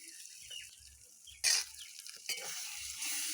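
Turmeric, chili powder and ginger paste stirred into hot oil with browned onions, giving a steady sizzle with scraping spoon strokes and two louder sputtering bursts midway, close and without talk.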